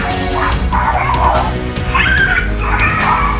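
A dog yips and whimpers loudly and close by during a confrontation with a leopard, giving a rapid string of high, strained cries over rough background noise.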